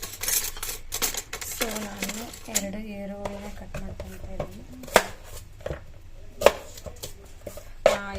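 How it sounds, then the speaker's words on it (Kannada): Onions are chopped on a board for an omelette in a home kitchen, with a run of sharp knife taps and clacks of irregular rhythm. Several louder knocks stand out, and faint voice-like tones sit in the background. "ಈರುಳ್ಳಿನ ಕಟ್ ಮಾಡಿ ಫಸ್ಟ್ ನಾನು ಆಮ್ಲೆಟಿಗೆ ರೆಡಿ ಮಾಡ್ಕೊತಾ ಇದ್ದೀನಿ"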